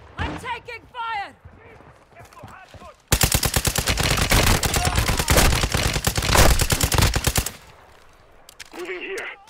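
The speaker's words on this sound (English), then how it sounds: "I'm taking fire!" Loud, close automatic gunfire in the shooter game Call of Duty DMZ, a sustained rapid burst lasting several seconds, with voices speaking before and after the shooting.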